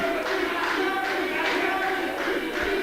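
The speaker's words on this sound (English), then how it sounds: "some of the people are chanting for Deeds" A wrestling crowd chanting for Deeds, a steady loud roar of many voices with rhythmic swells of chanting repeating throughout.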